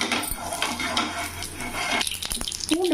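Mustard seeds, fenugreek and urad dal frying in hot oil in a pan, with a busy crackle and sizzle, light metallic clinks of a spoon against the pan, and a few sharper pops near the end.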